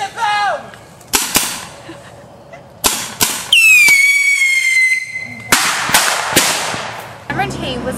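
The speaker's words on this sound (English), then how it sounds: "We got mortars inbound! Mortars coming down!" Explosions and blasts from a war film mortar attack, several sharp loud bangs spread irregularly through the scene, with a long descending whistle and shouting voices in between.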